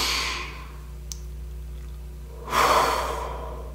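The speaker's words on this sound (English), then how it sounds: "I'd like to invite you to take a few deep breaths." Two slow, deep breaths, a soft inhale followed by a fuller, louder exhale, heard close and quiet over a low steady hum.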